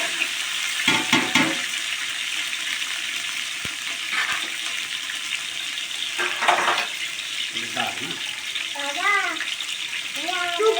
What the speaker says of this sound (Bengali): আমরা এটা সুন্দর করে ভেজে নেব।